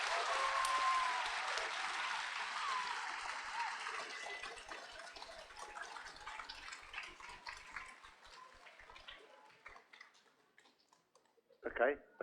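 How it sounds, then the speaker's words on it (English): School audience applauding at an event, a full round of clapping that starts loud and gradually thins and fades away, ending with a few brief scattered sounds. "Give a nice big round of applause for the help."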